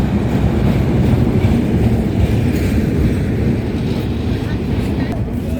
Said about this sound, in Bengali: এই তো আমাদের ট্রেন বাবাজি চলে আসছে